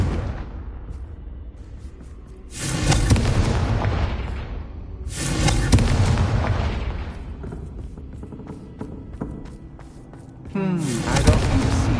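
In Hogwarts Legacy the Confringo blasting spell lets off loud, booming explosions. Several heavy bursts each roll out into long rumbling decays, with a voice shouting under the blasts.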